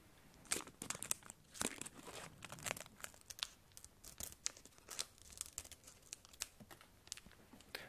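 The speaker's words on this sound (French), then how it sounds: "Je vais les ouvrir avec cette paire de ciseaux, ce sera beaucoup plus sympa." Pokémon Sword and Shield foil booster packs crinkle and are snipped open with scissors up close, with quick snips and rustling crunches in an uneven rhythm.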